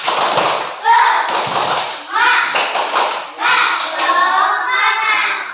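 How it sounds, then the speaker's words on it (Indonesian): A class of children does a rhythmic patterned clap at an Indonesian Independence Day lesson, with bursts of hand claps and taps mixed with children's voices chanting along, close and lively. "Tepuk semangat"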